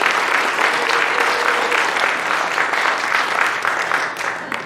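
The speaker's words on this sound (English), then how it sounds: "Let's give them a round of applause." A crowd at a meeting on a vote about Amendments 4 and 5 gives a steady, dense round of applause for exit poll volunteers, loud and continuous, tapering slightly at the end.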